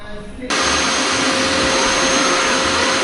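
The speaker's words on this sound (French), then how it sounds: "je ne passerai pas le balai, mais l'aspirateur." A household vacuum cleaner switches on in a living room and runs with a loud, steady roaring whine; faint background sound precedes the start.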